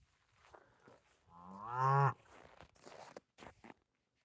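Cattle moo from close by, one long drawn-out low call that swells and then breaks off, with faint shuffling and rustling before and after it.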